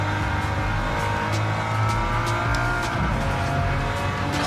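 Race car engine in the Gran Turismo 7 video game on PS5, a continuous loud roar with shifting pitch and tyre noise throughout, no talk over it.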